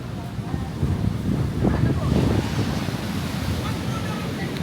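Ocean surf washing onto Kuta Beach in Bali at sunset, a steady low rumble of waves with wind buffeting the microphone, continuous and moderately loud with a swell in the middle.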